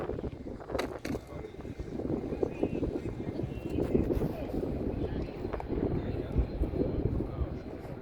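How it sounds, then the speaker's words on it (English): A steady engine roar from a Cessna Citation jet overhead at a World War II airshow weekend fills the whole stretch, broad and continuous with wind buffeting the microphone. "The planes you hear that may be a Cessna citation."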